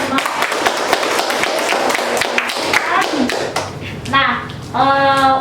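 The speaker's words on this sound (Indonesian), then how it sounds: "Terakhir kasih tepuk tangan dulu untuk teman-teman." Students in a classroom clap together in a quick, rattling burst of applause for a few seconds, then a voice speaks as it fades.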